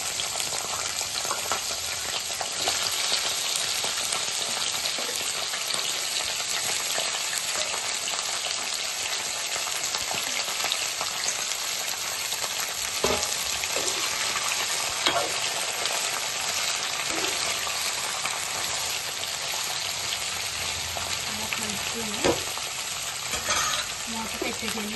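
Ivy gourd (dondakaya) pieces fry in a tempering of dried red chilies and curry leaves, giving a steady, loud sizzle with occasional scraping stirs throughout, no voices.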